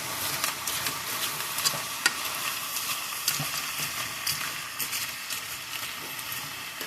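Soup-mix vegetables cooking in a pan for shepherd's pie, a quiet continuous sizzle with scattered clicks and scraping taps from stirring.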